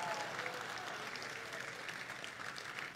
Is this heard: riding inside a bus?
no